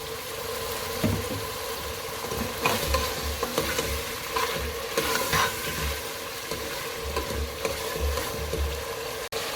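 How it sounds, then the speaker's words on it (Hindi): Minced keema frying in oil for aloo keema: a steady, loud sizzle runs throughout, with scraping stir strokes and low thumps of the spoon against the pan, close up and without speech. "अब इसमें ऑयल ऐड कर इसकी अच्छे से भुनाई कर लेंगे।"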